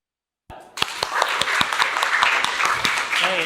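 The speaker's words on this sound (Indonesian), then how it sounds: "tepuk tangan dulu" Students in a school classroom burst into applause after a moment of silence, a dense, close burst of hand clapping that carries on steadily to the end.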